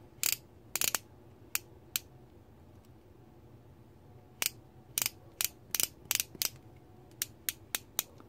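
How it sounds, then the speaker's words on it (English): A Cimarron 1872 Open Top revolver clicks as its cylinder is rotated, giving crisp, quiet metallic clicks that come singly and in quick pairs against a hushed room. "At first click, the cylinder begins to rotate."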